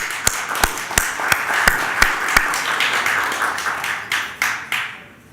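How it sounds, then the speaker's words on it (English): A roomful of guests at the SBBS Annual Dinner 2017 bursts into sustained applause, a dense wash of clapping with a few sharp, loud claps standing out at the start before it gradually thins and fades. "Let's kickstart the event with a big round of applause for each of us"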